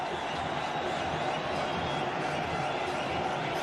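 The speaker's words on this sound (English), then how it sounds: "the crowd coming to life here" A cricket stadium crowd cheers during an India vs Australia match as Ganguly strikes shots off Warne. The roar is steady and loud, a dense wash of voices with no clear individual words.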